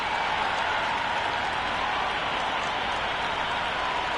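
A large crowd claps and cheers in a dense, steady roar before the start of an India vs South Africa T20 cricket final, with no pauses and no clear voices.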